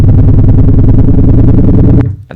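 A loud, dense distorted tone from a soft clip distortion effect in Ableton drones continuously with a gritty, saturated texture, then cuts off abruptly near the end.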